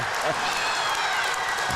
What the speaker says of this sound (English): Now the crowd is going crazy